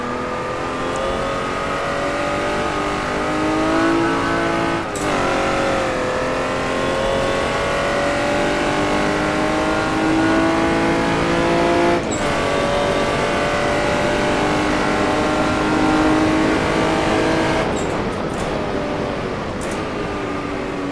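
Jaguar D-type race car at Goodwood, its engine roaring loud and close from the cockpit, pitch rising and falling through gear changes, with brief sharp breaks at shifts and no talking.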